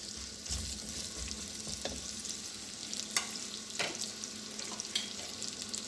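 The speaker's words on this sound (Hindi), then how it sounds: "अब मूली को हम भूनेंगे अच्छी तरह" Radish frying in a pan for a radish and spinach saag makes a dense, steady sizzle nearby, with a few spatula scrapes and clinks scattered across a few seconds and no speech.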